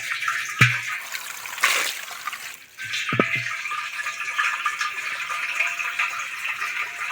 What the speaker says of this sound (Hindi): और भर लेती हूँ पानी।